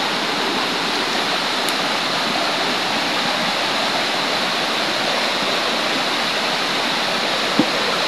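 A river rushes steadily and loudly, broadband water noise holding constant for the whole stretch, with one brief sharp knock near the end and no voices.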